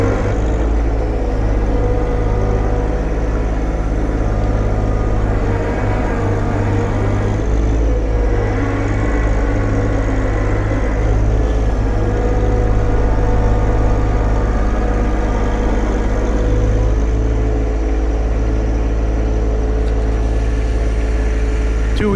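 A John Deere 1025R compact tractor in two-wheel drive without diff lock spins its tires on driveway ice, its engine droning loud and steady throughout with slight rises in pitch as the wheels slip.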